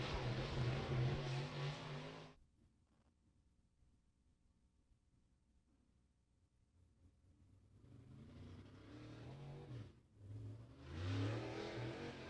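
A race car engine on a speedway qualifying lap swells and fades as the car passes, loud roaring at the start and end with a quiet distant rumble in between.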